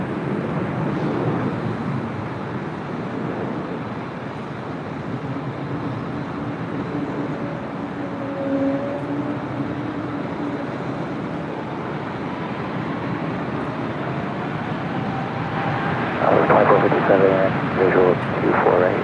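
An airliner rolls for takeoff from runway 24 left at LAX, a broad steady jet roar heard from a distance with faint tonal whine, while radio voices talk over it.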